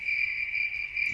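Crickets chirp in a continuous, steady high-pitched trill, used as a sound effect for awkward silence, fairly loud and close with a faint low rumble underneath.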